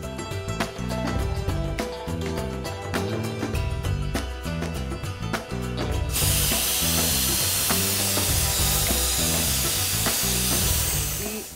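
Chicken frying in oil over a medium flame gives a steady, bright sizzle that swells halfway through, heard beneath continuous background music.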